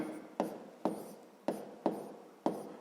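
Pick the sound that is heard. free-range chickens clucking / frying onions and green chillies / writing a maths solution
writing a maths solution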